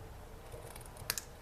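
Paper crafting scissors make a quiet snip or two trimming the excess of a lemon lime twist ribbon from a handmade card, a short crisp cut against a soft background.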